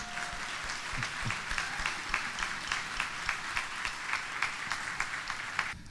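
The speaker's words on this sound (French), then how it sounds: "Donc, applaudissez-les." Audience applause for the judges at an awards gala, a steady, moderately distant wash of clapping with sharper individual claps standing out throughout.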